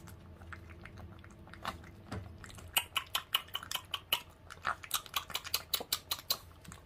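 A puppy eats its food with rapid, close crunchy chewing and biting. After a softer start the bites come in a steady rhythm, with scattered clinks like a bowl being nudged and no talk over them.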